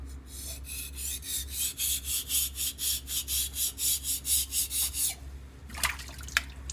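Knife sharpened on a rough stone: about a dozen even, rhythmic scraping strokes close up, followed by a pause and a couple of sharp clicks.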